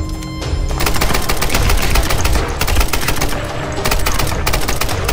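Enemy gunfire in the Tomb Raider video game: dense, continuous rapid automatic shots hammering loud and close in unbroken bursts, with brief gaps before the firing resumes.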